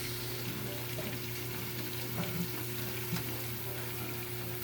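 Fresh tomatoes go into a frying stew, giving a faint, steady sizzle with a low electrical hum running underneath.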